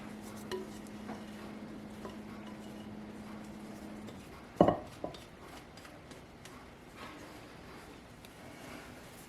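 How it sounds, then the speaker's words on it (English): A rubber spatula scrapes orange satsuma cake batter around a mixing bowl: soft quiet scraping, a steady hum underneath, then one sharp knock against the bowl midway, followed by lighter scrapes. "And you want to really scrape this bowl."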